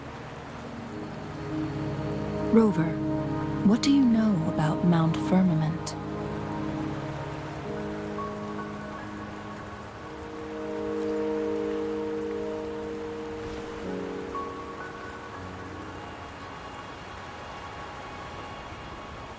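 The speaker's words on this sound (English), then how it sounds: "Don't worry, the rain won't last much longer." Steady rain falls in the video game Wuthering Waves, a constant broadband hiss that runs the whole way through, while a voice speaks briefly over it and soft musical tones rise and fade.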